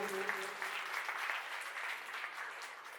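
Dense audience applause at a primary school's annual function and farewell event, steady and continuous across the whole stretch, with faint voices underneath.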